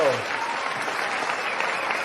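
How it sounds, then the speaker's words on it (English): Steady audience applause fills the room at a public event with the mayor, continuous dense hand clapping throughout, and a voice is briefly heard at the very start. "I need some hand claps."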